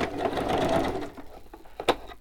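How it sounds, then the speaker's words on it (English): Sewing machine stitching around a pocket, a brief close motor whir that fades out after about a second, followed by a few faint clicks and knocks. "now I'm stitching around this pocket"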